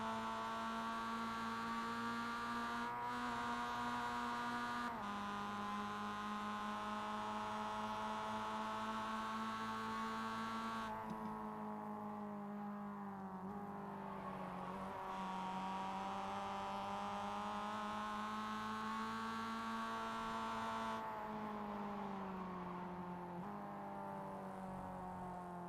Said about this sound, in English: You can hear the tires just squealing beneath them as they beg for traction coming through the final couple of corners